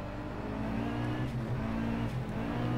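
A race car engine in the Project CARS racing game holds a steady, droning tone as it runs at speed, sustained and moderately loud, with no talking.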